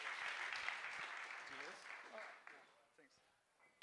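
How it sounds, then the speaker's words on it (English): A crowd claps in a dense wash of applause that gradually fades, with a voice speaking briefly as it dies down. "Big round of applause."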